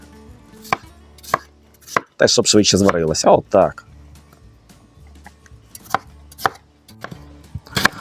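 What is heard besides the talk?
knife chopping potatoes on board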